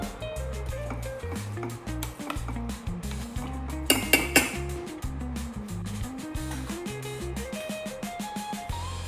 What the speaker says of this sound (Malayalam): ഞാൻ ഈ അടുപ്പ് മാറ്റുവാണ് കേട്ടോ.